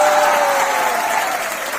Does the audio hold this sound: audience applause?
yes